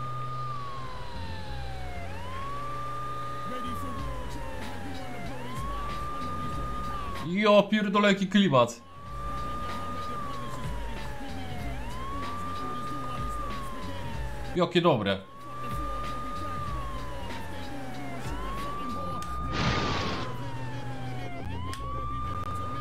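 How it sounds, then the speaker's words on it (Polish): Wailing New York police sirens from the video game True Crime: New York City, sweeping up and down repeatedly and steadily through the whole stretch, with game sounds and two loud bursts mixed in while people talk over it. "jak słyszę te syreny nowojorskie"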